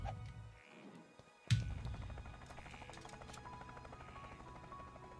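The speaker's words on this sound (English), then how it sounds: "Get there quickly in the helicopter." A helicopter flies in Craftopia with a steady, quiet mechanical drone and rotor hum that kicks in abruptly after a brief near-silent gap and continues evenly at low volume.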